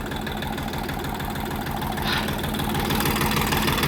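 A Kentavr 244 tractor engine runs steadily nearby while working a Lisicki rotary mower, a constant rumbling drone that swells slightly louder toward the end.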